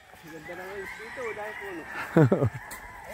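Chickens cluck and chatter nearby on an island, followed by a short, loud crowing burst from a rooster, with faint background hum.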